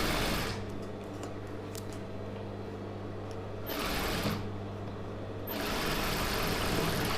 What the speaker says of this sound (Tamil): அப்படியே ஒரு தையல் வச்சிடலாம்